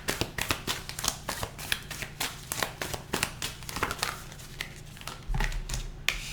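Close, continuous shuffling of a tarot deck: a steady run of sharp, papery card slaps and riffles repeating for several seconds, with no voices.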